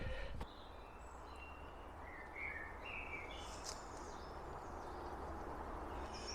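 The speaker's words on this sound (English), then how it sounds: "Should we stop and listen to the birds?" Birds sing and chirp in Coombs Wood, scattered distant warbling phrases over a quiet, faint woodland background with no talking.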